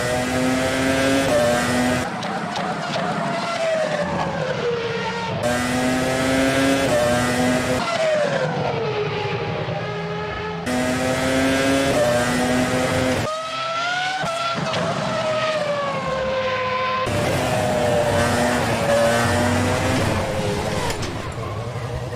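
A Formula Pro race car driven around Spa in rFactor 2 roars continuously, its loud engine note rising and falling with repeated gear shifts and revving, steady and close throughout.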